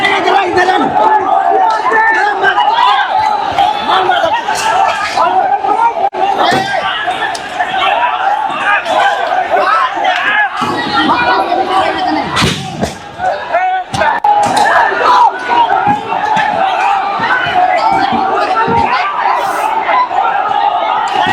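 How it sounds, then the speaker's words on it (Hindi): A mob at a protest shouts aggressively while attacking police, a dense, loud wall of yelling voices with thuds and slams breaking through a continuous roar of the crowd. "ये भीड़ मारो मारो चिल्लाती है"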